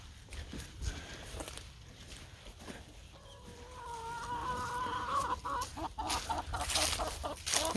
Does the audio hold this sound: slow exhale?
no